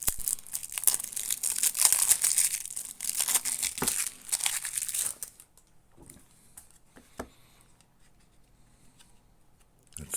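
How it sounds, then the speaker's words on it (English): Plastic and cardboard packaging of a Magic: The Gathering Lord of the Rings starter kit being torn and crinkled open, close and busy for about five seconds, then a few sparse rustles and taps. "Now opening the rest of our deck."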